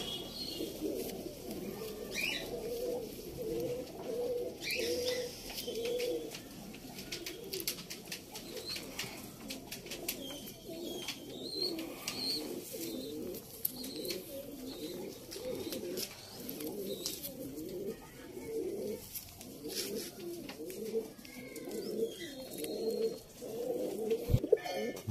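Pigeons in a loft coo continuously in soft, repeated throaty phrases, several birds overlapping at close range, with occasional faint chirps and no talking.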